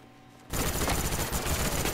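Rapid automatic gunfire in a video game starts abruptly after a quiet moment, a dense burst of repeated shots continuing loudly to the end.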